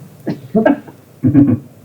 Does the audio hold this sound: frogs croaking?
no